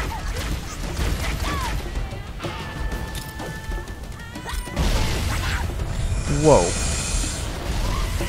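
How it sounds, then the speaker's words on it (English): A big explosion in Halo: Combat Evolved Anniversary bursts out around the middle amid game noise and sporadic clatter, with a player's startled exclamation and talk nearby. "That was a big explosion."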